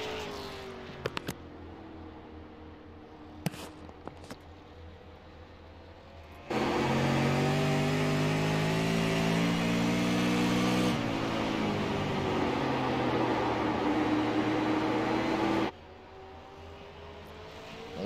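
A race car at the USA Super 50 passes on its first timed run, a loud sustained engine roar that starts abruptly, holds steady for about nine seconds, then cuts off, with fainter engine noise and clicks before it.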